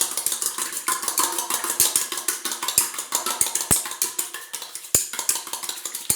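A whole egg is whisked briskly in a bowl for a hair mask, giving a steady rapid clatter of utensil against the dish with sharper knocks scattered throughout, close and continuous, with no talk.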